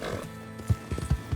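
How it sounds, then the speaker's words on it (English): A horse in Red Dead Redemption 2 gives a brief run of low, breathy snorts and hoof-like thumps close up. A faint voice is heard at the start. "That was a snort of affirmation."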